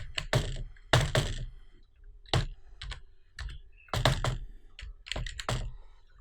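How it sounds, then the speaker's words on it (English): Password being typed on a computer keyboard, heard as several close bursts of rapid key clicks separated by short pauses, with no talking. "So I'll just type a password here, so you can type anyone."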